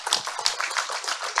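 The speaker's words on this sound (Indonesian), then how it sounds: "tepuk tangan sih ya" Audience clapping at an Indonesian motivational talk, a steady patter of many hands close by, continuous and fairly even for the whole short stretch with no voices over it.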